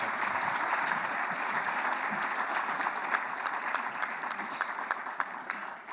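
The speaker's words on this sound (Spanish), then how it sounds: "Con nuestro aplauso recibimos a Jesús Zambrano." Loud, sustained applause from an audience at an Aspen Institute México forum welcoming a speaker, dense clapping that stays full throughout.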